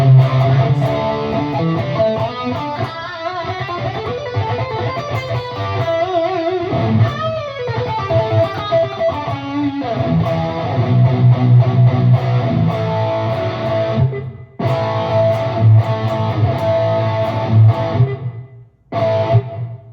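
Electric guitar with a DiMarzio X2N pickup played through a NUX Trident pedalboard with reverb, a distorted, sustained riff with chords and bends, loud and continuous with brief gaps near the end.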